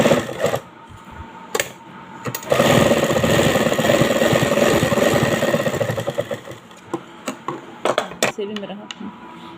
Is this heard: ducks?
no